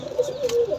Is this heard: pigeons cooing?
yes